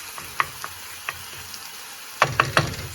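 Fresh onion frying in a pan is stirred around, giving a soft sizzle under scattered scraping clicks, then a closer cluster of louder stirring knocks near the end.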